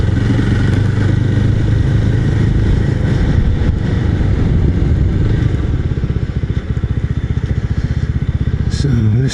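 A BSA motorcycle engine, a Bantam or Goldstar 650, drones steadily and loudly while being ridden, with continuous close engine rumble and slight pitch shifts toward the end.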